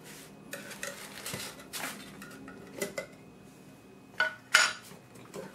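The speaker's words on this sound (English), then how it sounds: "open up my can of grain filler" Metal can of grain filler pried open and stirred for a woodworking finish, a series of close clinks, scrapes and knocks with a couple of sharp metallic rings near the end.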